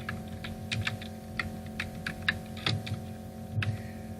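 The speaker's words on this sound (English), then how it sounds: "let's just hit enter and start typing in our code" Typing on a computer keyboard while entering HTML code, a steady run of close, crisp key clicks in an irregular rhythm against a faint constant hum, with no talking.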